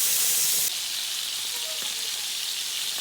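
Steaks frying in a pan, with a steady hissing sizzle that is louder at first and then settles into a softer, even crackle, with no talking.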